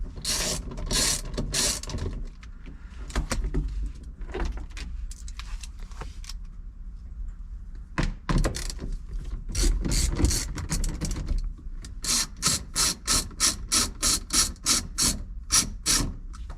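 A ratchet wrench clicks as bolts come off the transmission of a 2001 Miata 6-speed, with bursts of rapid pawl clicking, scraping and metal handling close by and a steady rhythmic ratcheting run near the end.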